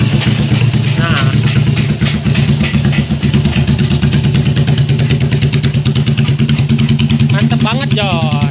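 A Harley 250 cc V-engine motorcycle runs close and loud with a rapid, lumpy, evenly pulsing idle that chugs steadily throughout.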